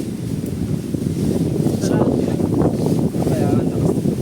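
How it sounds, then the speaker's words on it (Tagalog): Strong wind roars steadily against the microphone near the open sea, a dense, continuous rush with gusty swells and no letup, loud and close throughout. "Nasobrahan naman sa hangin"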